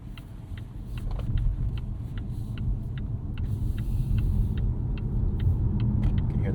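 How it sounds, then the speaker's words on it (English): The petrol 2-liter engine of a Volvo S60 Recharge T8 hybrid starts up during a rainy drive, a low rumble that gradually builds under road noise and light repeated ticks. "You can hear that gas motor kicking in."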